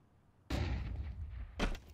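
A flashbang grenade goes off during a Counter-Strike esports match on the Vertigo map: a sudden loud blast that lingers in a dense wash, then a second sharp burst about a second later.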